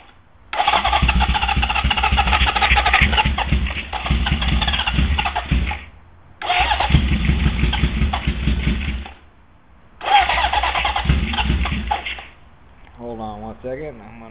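A Honda CB750 old school chopper motorcycle engine with choke on is cranked in three long starter bursts separated by short pauses, loud and close, with a voice talking briefly at the end.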